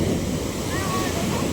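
Sea waves wash onto the shore at a fish terminal in Tanza, Cavite, making a continuous loud roar mixed with heavy wind buffeting on the microphone.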